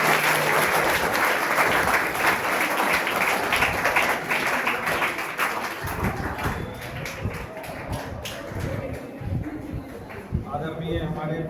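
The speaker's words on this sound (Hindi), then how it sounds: "तो सहदेव सर के लिए एक जोरदार क्लैपिंग।" An audience gives loud, sustained applause for social science teacher Sahdev at a school farewell ceremony, clapping steadily near the recorder and tapering slightly toward the end.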